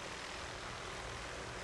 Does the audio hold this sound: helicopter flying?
yes